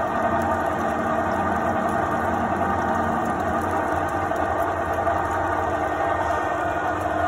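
A milling machine cuts threads on a new drawbar, producing a steady, continuous mechanical hum and whir that stays at an even loudness throughout, with no voices.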